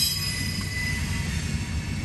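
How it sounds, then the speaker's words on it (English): A freight train with flat cars rolls past nearby, giving a steady loud rumble of wheels on rails with a high metallic squeal ringing above it. "Hey, they have some flat cars."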